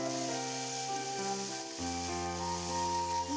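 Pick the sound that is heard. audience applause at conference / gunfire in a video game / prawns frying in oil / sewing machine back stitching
prawns frying in oil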